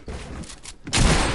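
Fortnite gunfire, a burst of shots with a louder, fuller volley near the end, close and dense, with no talk over it.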